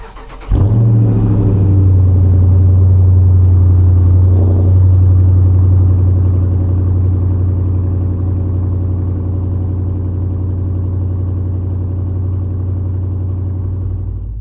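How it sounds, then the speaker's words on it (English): A 2019 Dodge Charger R/T engine fires on a cold start, catching with a loud rumbling burst and then settling into a steady, deep, heavy idle that holds close and strong, with no talk. "So let's go ahead and do a little cold start, shall we?"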